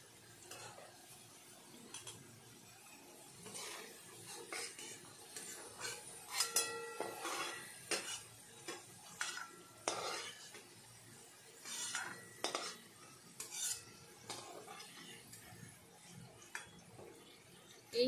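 Fried potatoes lifted from a pan of hot oil with a metal utensil while cooking a vegetarian banana-flower dish, scraping, clinking, and rattling sounds come in irregular bursts over faint sizzling.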